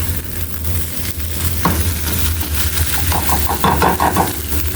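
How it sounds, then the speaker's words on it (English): Eggs with cheese being stirred in a hot frying pan, a steady loud sizzle running throughout while a utensil scrapes and clicks against the pan close by. "we're gonna stir that together."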